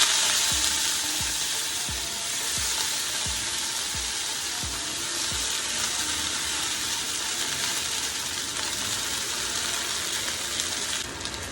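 Coriander leaves sautéing in a pan for chutney, a steady close sizzle and crackle of frying with a few early scraping stirs, continuing evenly without speech.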